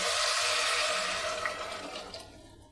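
Water gushes steadily into a cooking pot for pea pulao, a loud continuous pour that tapers off over a few seconds.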